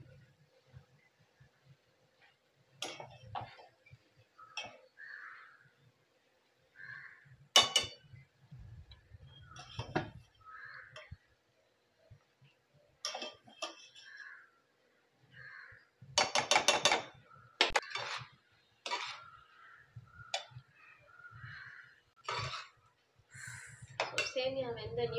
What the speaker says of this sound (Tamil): சேமியா போட்டுறேன்.